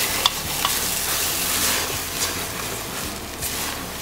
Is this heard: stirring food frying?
yes